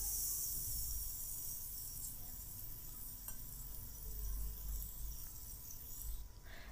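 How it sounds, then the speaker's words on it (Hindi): Tomato and finely chopped green chilli masala fries quietly in a pan while being stirred, a soft continuous hiss and sizzle with an occasional light scrape, faint and without talk. "इस मसाले को अच्छी तरह भून लेंगे"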